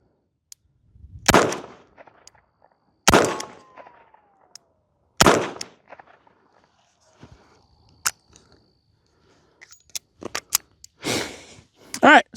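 A Chiappa Rhino revolver fires loud, sharp, close shots about two seconds apart, then a quick double shot near the end. Faint clicks and handling noises fill the gaps between the reports.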